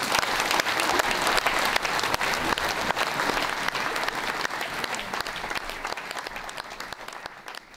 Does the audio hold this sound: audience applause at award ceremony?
yes